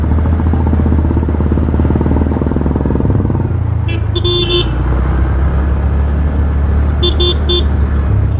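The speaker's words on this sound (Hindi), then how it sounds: "इधर ट्रैफिक बहुत ज़्यादा रहता है, देख रहे हो।" Heavy, jammed road traffic at a busy chowk near Kanke block: a constant loud rumble of cars and motorbikes, with two short bursts of car horn honking, one near the middle and a second, shorter one near the end.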